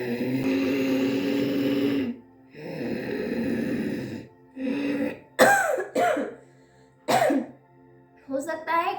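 Ujjayi pranayama breathing drawn through a constricted throat during a yoga session for cold and cough, several long raspy hissing breaths in succession followed by shorter throaty breaths with a cough-like catch, close and fairly loud.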